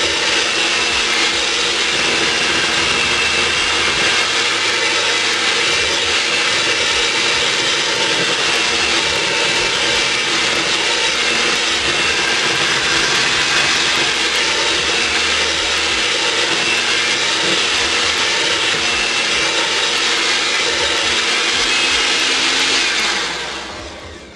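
A mixer folds chocolate chips into cheesecake batter with a loud, steady whirring drone that runs unbroken for over twenty seconds and cuts off at the end.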